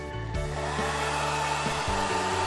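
A heat gun warming vinyl wrap film gives off a steady, close blowing hum with slight shifts in pitch, running unbroken on its own with no speech.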